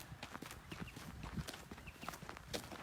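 Horses in an equestrian stable, with soft irregular hoof clops and shuffling steps at close range over a low busy background; no talk.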